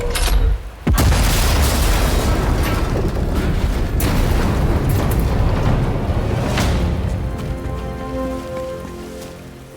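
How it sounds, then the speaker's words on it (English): A sabotaged artillery gun in Sniper Elite 5 blows apart when fired, a single sharp, loud blast near the start followed by a long rumbling roar and crackling debris that slowly fades, with no voices. "The gun will blow when it's fired."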